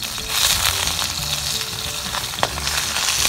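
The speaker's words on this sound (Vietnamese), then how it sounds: "xào tép cho nó à, chín sơ nhé các bạn" Small shrimp sauté in a hot pan as filling for bánh xèo, a loud, close, continuous sizzle and crackle with stirring scrapes and one sharp utensil knock, no voices.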